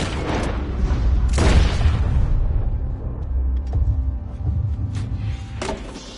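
A single loud, booming gunshot in Red Dead Redemption 2, heavy and close, its rumble trailing off into a low ambient tail with faint knocks.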